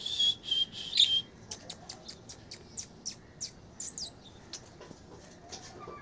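Bird calls in the open in the morning: a few loud high whistles, then a quick run of short chirps repeating steadily at a moderate distance.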